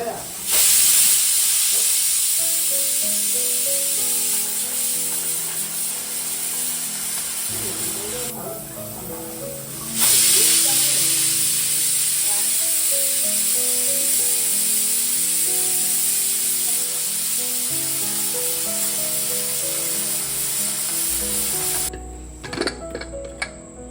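A pressure cooker cooking colocasia leaves hisses loudly and steadily with steam, a sustained whistling rush with a pulsing rattle underneath, easing briefly before resuming.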